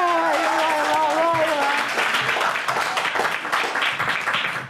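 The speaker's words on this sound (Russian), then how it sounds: "это не те аплодисменты, когда школьники выигрывают у студентов" Audience applause at a televised quiz show, broad sustained clapping that starts while a voice calls out over it and then continues on its own.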